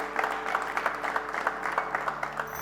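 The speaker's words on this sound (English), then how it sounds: "Can we have an encouraging applause for Akash?" Encouraging audience applause for a contestant on a competition show, fairly faint, scattered clapping from a modest crowd, steady throughout with no talking.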